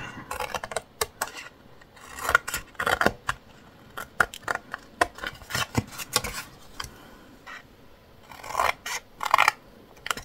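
Scissors snip through paper for a scrapbooked baby birth keepsake box, with quick bursts of close, crisp cuts, brief pauses as the paper is turned, and a denser run of cuts near the end. No voices.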